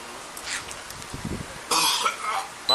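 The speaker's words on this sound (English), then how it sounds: "my man is coughing this way" A man coughs a few times close by during a tense outdoor police arrest, with other people talking over the coughs.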